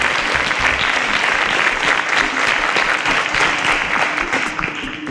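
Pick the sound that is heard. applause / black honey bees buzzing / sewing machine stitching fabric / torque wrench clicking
applause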